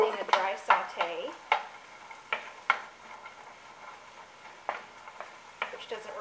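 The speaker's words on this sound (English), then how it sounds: "So here's where I'm going to dry saute my onions" Onions dry-sautéed without oil in a pan for a vegan eggplant, chickpea, potato and coconut curry: a spatula scrapes and clacks against the pan in irregular strokes over a faint, low sizzle.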